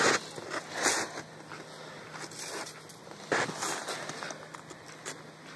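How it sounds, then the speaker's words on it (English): A baby moose chews close by outdoors, soft crunching bites and rustles arriving in irregular bursts with quieter pauses between. "What are you chewing on?"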